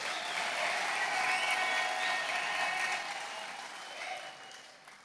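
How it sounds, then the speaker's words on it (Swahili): An audience applauds a bishop at an award ceremony held by an evangelism college, a sustained wash of many hands clapping at moderate distance that tapers off toward the end. "tushereheshe, makofi kwa baba askofu"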